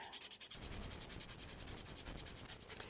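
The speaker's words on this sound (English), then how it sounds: "I'm a big fan of grating nutmeg as you need it" A whole nutmeg seed rubbed against a grater in quick, rhythmic rasping strokes, close and steady for a few seconds with no talk.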